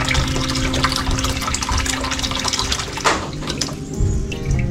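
Water pours steadily from a hose or tap into a full drum at a rest house, a dense continuous splashing that stays loud throughout with a brief shift partway through.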